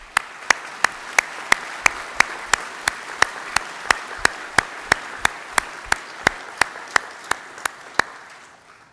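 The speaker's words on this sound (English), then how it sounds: "why don't we thank them by giving them a round of applause" Applause from an audience at a summer graduation ceremony: sharp claps ring out in a steady, evenly spaced beat for about nine seconds over a soft continuous wash of crowd noise.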